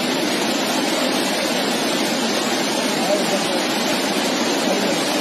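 A river rushes beneath a broken bridge in Kinnaur, producing a constant, dense roar of turbulent water that fills the scene evenly, close and loud without pause.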